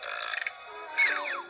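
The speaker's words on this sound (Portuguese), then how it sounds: "Eu vou dar um arrotinho nelas," A playful burp aimed at carnivorous plants, one rough, medium-loud belch with a gurgling rise and fall, heard alone up close.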